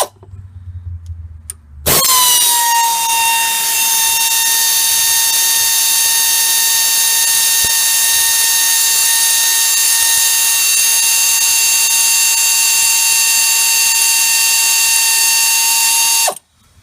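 An impact tool or power driver whines loudly and steadily for about fifteen seconds, close up and alone, while removing the slider bolts from a car's brake caliper.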